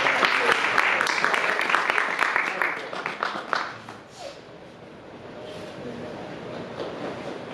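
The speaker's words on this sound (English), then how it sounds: "let's also acknowledge and give a wonderful round of applause for Rati Prabhu for his wonderful kirtan" An audience at a devotional gathering applauds after a kirtan performance, a dense round of clapping that fades after about four seconds into a quieter, murmuring room.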